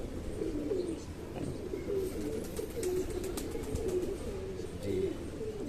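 Champion pigeons in a Bhopal fancier's loft cooing repeatedly, with overlapping soft coos and a few chirps, close and steady throughout, no talk.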